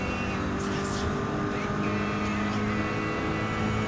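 Gran Turismo 7 Gr.3 race cars including the Genesis X Gr.3 slipstreaming, a steady engine drone with a few brief higher whooshes early on, continuous at moderate level.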